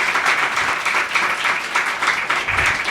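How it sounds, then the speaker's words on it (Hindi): An audience at a Christian gathering in India claps loudly together at the close of a session, a dense, steady wash of applause with no pauses. "ये जोरदार ताली बजाकर परमेश्वर का धन्यवाद करें।"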